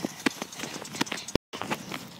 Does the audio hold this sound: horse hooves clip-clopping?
yes